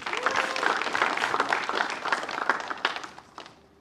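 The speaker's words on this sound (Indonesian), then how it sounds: "Boleh tepuk tangan sekali lagi?" Audience applause from a live comedy elimination show crowd, a dense sustained burst of clapping that stays loud and then fades out toward the end.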